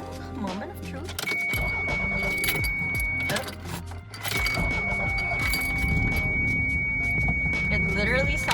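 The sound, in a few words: car engine cranking after sitting all day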